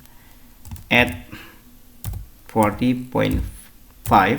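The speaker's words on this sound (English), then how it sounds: "go to command line form and type the dimension" Scattered clicks of typing on a computer keyboard while entering dimensions in a CAD program, faint taps beneath someone speaking in short phrases.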